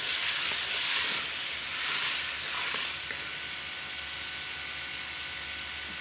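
A kilogram of potatoes frying in a pan, giving a steady, fairly loud hissing sizzle that holds evenly throughout, swelling slightly at first before settling, with no talking.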